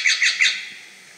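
A bird call played in the Wingspan board game app, likely a jay-type species: three quick, piercing, high-pitched chirps in a rapid even rhythm, clear and alone, fading out afterward.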